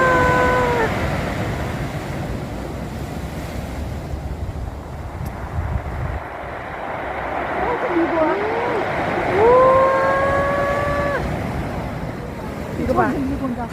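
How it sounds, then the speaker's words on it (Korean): Waves breaking on a winter beach with sea wind, a steady broad wash of surf under gusting wind noise, swelling slightly near the middle; people talk and exclaim throughout. "저기 파도 치는 거 봐."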